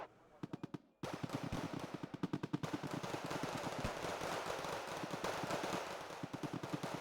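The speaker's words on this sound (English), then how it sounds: "grenade launcher doing grenade launcher things" Rapid bursts of grenade launcher fire in a tactical shooter game, loud and close, first in short clipped volleys and then a sustained rattling barrage, with faint voice chatter underneath.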